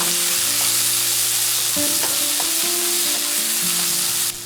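Steady, loud sizzling of spring onion and vegetables stir-frying in hot beef frying oil, with occasional scraping and clinks of a utensil stirring in the pan.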